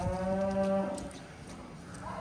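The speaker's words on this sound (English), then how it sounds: "this is the old cow we've got" An old farm cow, about 96 months of age, gives one loud, close, drawn-out moo that fades after about a second, leaving quiet barn background.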